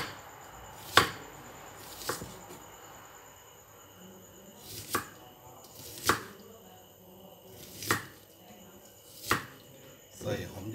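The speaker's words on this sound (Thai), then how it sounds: "หั่นหอมใหญ่ก่อนนะครับผมนะ" An onion sliced with a knife on a cutting board while preparing a banana blossom salad, sharp separate chops about once a second, quiet between strokes.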